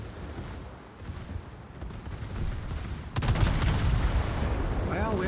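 Battleship guns firing armour-piercing shells in the naval game World of Warships, dense rumbling salvos that swell louder partway through over a steady battle din.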